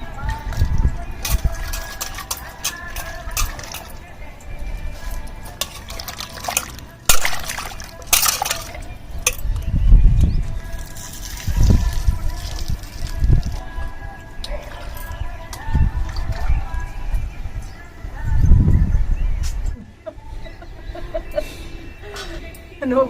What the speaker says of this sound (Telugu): వీటిని శుభ్రంగా ఒకసారి కడిగేసుకున్నాం